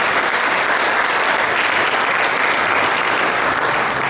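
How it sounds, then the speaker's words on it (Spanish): A crowd at an Atlantic City Latino town hall meeting applauds, a dense and steady round of clapping that stays loud and close for the whole stretch. "And that is why they deserve another round of applause."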